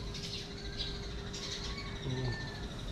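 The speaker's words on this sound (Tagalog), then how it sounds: "Ayan, ibon." Birds chirp outdoors in Dagupan City, Pangasinan, short thin tweets and a few drawn-out whistled notes over a steady background hiss, fairly faint and with no talking.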